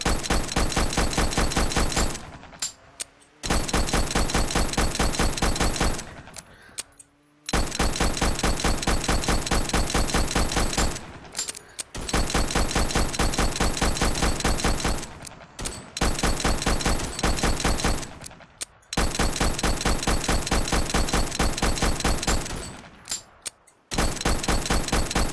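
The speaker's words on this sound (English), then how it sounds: "I was shooting at a log at some point." Gunshots in the VR horror game A Terrible Place ring out in long, fast regular volleys, loud and close, each run stopping abruptly before the next barrage begins.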